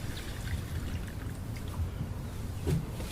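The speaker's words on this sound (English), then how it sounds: "I can pour in my syrup." Syrup poured into an opened BeeTech bee feeder, a soft steady trickle and liquid dribble running close by for a few seconds with no talk.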